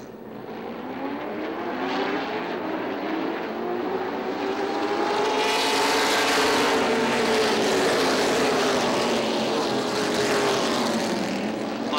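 Stock cars roaring around Motordrome Speedway, a loud continuous engine drone with rising and falling pitch sweeps as the pack passes, steady and close without any talk.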